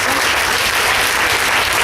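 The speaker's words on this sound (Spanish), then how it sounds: "Agradecemos con un fuerte aplauso la excelente participación de nuestra doctora Arce." Audience applause after a talk honoring a speaker, a dense, loud, continuous patter of many hands clapping at once with no voices over it.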